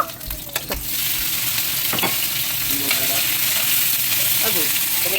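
Onion going into a hot pan and stirred, a loud close sizzle that jumps up after a few knocks at the start, with scraping utensil strokes against the pan over steady frying hiss.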